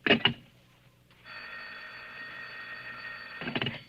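An old-time radio drama telephone rings with a steady electric bell tone lasting a few seconds, set between brief louder knocks or handling clatter at the start and end.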